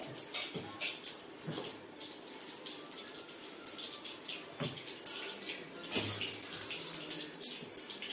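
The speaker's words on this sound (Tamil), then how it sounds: "இந்த ஜலத்தை நான் வடிச்சுக்கிறேன்" Water is poured off soaked ingredients while cooking curry leaf thokku, producing a faint, continuous trickle and splash with a few soft clinks and knocks of a vessel, all at low level without speech.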